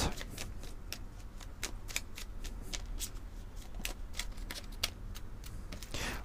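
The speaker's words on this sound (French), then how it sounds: "Tac, allez, une carte du petit oracle messager." A deck of petit oracle messager oracle cards is shuffled by hand, with a steady run of crisp, close riffling snaps and rustles for several seconds and no talking.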